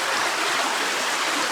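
Stream running through a cave passage with water covering the floor, a steady, loud rushing and gurgling flow that continues without a break and with no voices.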